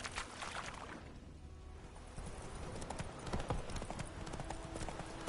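Horse hooves clip-clop in a quick galloping rhythm in The Witcher 3, steady and fairly faint amid ambient game sound, with occasional brief voice in the background.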